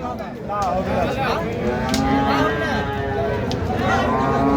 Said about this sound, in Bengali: এই পাশে আরেকটা গরু দেখতেছি।